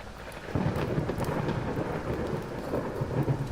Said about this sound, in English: And it was a clap of thunder.